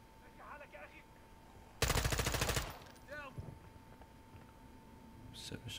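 Rapid automatic gunfire from a gun in Call of Duty Modern Warfare 2, a loud dense burst lasting under a second amid ambient game sounds and faint voices.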